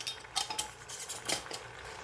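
Light clinks and scrapes of a utensil against a pot while homemade Irish potato soup ingredients, including homegrown dehydrated seasoning, are tossed together; quiet, irregular taps with no speech.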